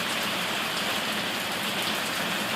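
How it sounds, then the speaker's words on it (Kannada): Heavy rain pours down continuously, a dense, even hiss of drops striking surfaces with no pauses. "ಸಣ್ಣ ಆತದನಂದ್ರೆ ಮತ್ತೆ ರಪ್ಪ ಹೊಂಟದ್ರಿ ಮಳೆ"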